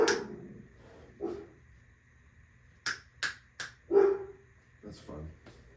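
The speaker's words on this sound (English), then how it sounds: "Barking dogs." Dogs bark several times at a distance in short sharp bursts, with a cluster of barks in the middle and more near the end, as a person talks at moderate volume over them.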